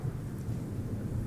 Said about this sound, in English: I heard nothing but the rain outside